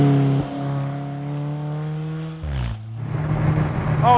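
An Alfa Romeo 4C sports car accelerates hard from inside the cabin, its engine note climbing through the revs, then a quick gear change and a renewed surge of loud, rising engine sound.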